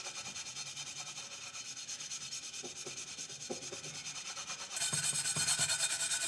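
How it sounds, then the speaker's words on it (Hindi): Steady abrasive scrubbing of a blackened cooking pot, a continuous rubbing hiss with brief scraping strokes, growing louder and brighter near the end, close and alone. "अच्छी तरह रगड़ें, सारा इसका कालापन निकल जाएगा।"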